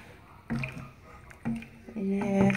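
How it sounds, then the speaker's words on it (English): Thick maize porridge, nsima or ugali, is stirred in a pot, giving a few wet, squelching thick plops and scrapes at irregular intervals, close and fairly quiet. "I'll stir it until it gets a little bit thick"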